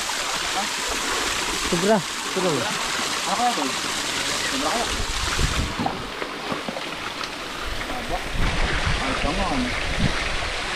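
Strong water pressure gushing from a pipe while setting up a water supply for a farmhouse, a loud continuous rushing and splashing roar with people talking over it.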